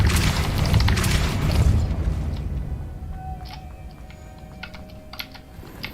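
A Depulso spell goes off in Hogwarts Legacy with a loud, deep whooshing boom that fades over a couple of seconds, followed by quieter clicks and a faint tone, with keyboard tapping throughout.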